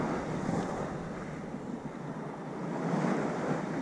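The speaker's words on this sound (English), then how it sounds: "The waves are coming in and pushing the cold water" Lake waves roll in steadily, a broad continuous wash of water and surf mixed with wind buffeting the microphone.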